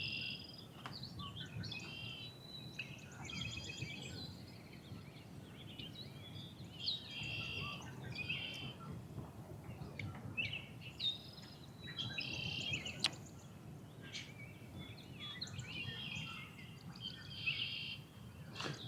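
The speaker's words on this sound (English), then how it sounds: "Red-winged blackbirds." Red-winged blackbirds calling from a spring lakeshore, faint repeated bursts of trilling song scattered over a low outdoor hum with soft insect-like chirps in the background.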